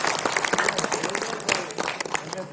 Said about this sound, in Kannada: ಅದಕ್ಕೋಸ್ಕರ ಒಂದು ಜೋರಾಗಿ ಒಂದು ಚಪ್ಪಾಳೆ ಅವರ ಪ್ರಕಾರ